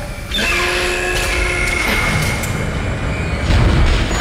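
A replacement tram car arrives in the video game Dead Space, with a loud mechanical rumble, a rising whine and metallic clanks, then a heavy low boom at the end.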